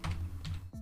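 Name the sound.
typing on a computer keyboard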